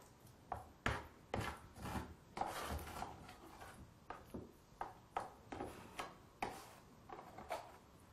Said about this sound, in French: Donc je mélange la poudre de marbre et la chaux